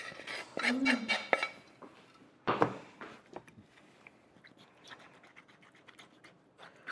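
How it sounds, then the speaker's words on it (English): A spoon presses a sweet, syrupy mulled-fruit mince pie parfait mixture through, with sharp metallic scrapes and clinks bunched early and again midway, then softer scattered scraping. "So just use your spoon and just push it through."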